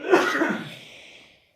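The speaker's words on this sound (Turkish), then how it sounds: "Evet öksürme." A single short cough, harsh and close, trailing off into a raspy breath within about a second.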